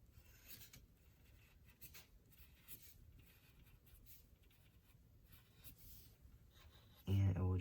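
Quiet pencil strokes scratching on paper while sketching dinosaurs, soft repeated rubbing and short scribbles close to the microphone, ending with a brief louder thump.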